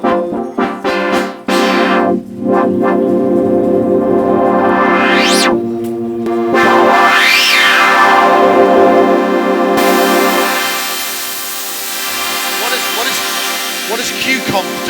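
An MFB 8-voice polyphonic analog synthesizer runs its first filter over sustained chords, loud and close, with resonant filter sweeps rising and falling through the tone and shifting timbre, no talking over it.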